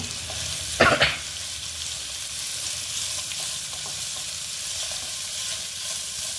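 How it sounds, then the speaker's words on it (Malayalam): Garlic and green chillies sautéing in hot oil make a continuous close sizzle and hiss, broken once early by a short louder clatter of stirring. "വെളുത്തുള്ളി, പച്ചമുളക് ചേർത്ത് വഴറ്റി കൊടുക്കുക."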